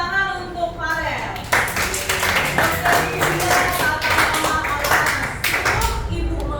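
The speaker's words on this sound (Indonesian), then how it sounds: "Kasih tepuk tangan untuk Farel" Schoolchildren clap in a classroom for a classmate named Farel, a scattered, uneven burst of hand claps mixed with a teacher's voice and children's chatter, close and moderately loud.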